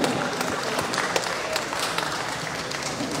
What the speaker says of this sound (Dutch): Een applaus voor Sharifa Badlu.